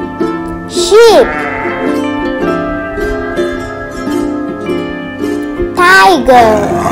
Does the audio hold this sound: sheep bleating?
yes